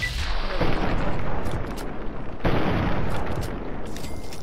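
A creature breathes fire in the Fallout 3 video game, producing two loud roaring bursts of rushing, crackling flame, each starting sharply and tailing off, with no talk.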